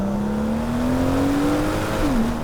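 A BMW M760i V12 sedan accelerates hard, heard from inside with a smooth engine tone rising steadily in pitch, then dropping at a gear change and climbing again, over a constant road roar.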